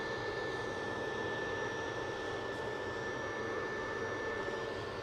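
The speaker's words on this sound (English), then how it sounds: "this EasyJet is off to Corfu. A320 Neo" An EasyJet Airbus A320neo bound for Corfu at Manchester Airport produces a faint, distant, steady jet rumble with a thin high tone held throughout.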